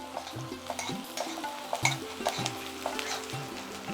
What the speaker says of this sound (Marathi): कांदा घातलेला आहे आपण तेलामध्ये।